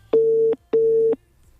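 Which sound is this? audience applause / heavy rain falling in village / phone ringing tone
phone ringing tone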